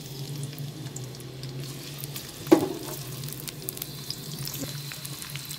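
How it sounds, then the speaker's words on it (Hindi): Onions fry in hot oil for a khatte achari baingan dish, a faint steady sizzle with one sharp clink partway through, heard close with a low background hum and no talking. "अब ये ऑयल गर्म हो जाएगा, फिर मैं इसमें प्याज डाल के फ्राई करूँगी।"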